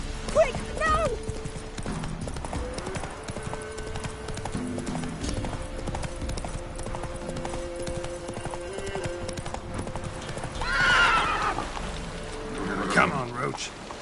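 Geralt's horse Roach galloping in The Witcher 3, a steady rapid clip-clop of hooves running throughout, with game music and voiced dialogue over it and a brief whinny-like burst near the end.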